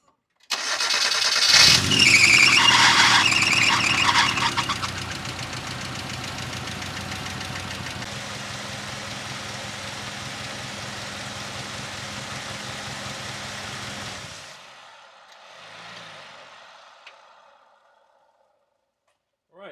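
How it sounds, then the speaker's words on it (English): A car engine cranks and catches during a DMSO engine oil flush, then runs loud and knocking for about twelve seconds before the revs drop and it settles to a quieter idle, close up with no talking. "let's go ahead and crank this up, and we're going to let it run for 1 hour."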